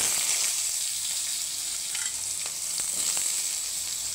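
Chopped carrot, beetroot and potato frying in a pan, a steady loud sizzle with a few crisp pops and stirring scrapes near the end.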